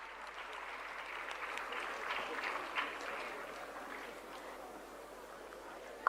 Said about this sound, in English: With a huge round of applause, let us welcome Afia ma'am.